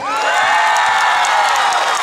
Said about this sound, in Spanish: A ver, los de enfrente que aplaudan.